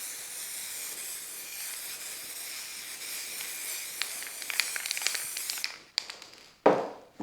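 An aerosol snow-effect spray hisses steadily across a model railway diorama, a continuous close hiss with brief spurts and pauses near the end as the can is handled.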